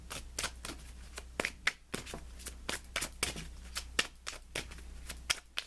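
Angel prayers oracle cards being shuffled and handled, a rapid series of crisp, close riffling flicks and slaps in irregular bursts, with no talk over them.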